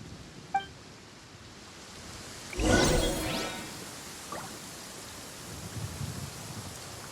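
Rain and thunder during a storm in the video game Genshin Impact: soft steady rainfall throughout, with one brief crack near the start and a louder rumbling thunder burst near the middle, then the rain continues quietly.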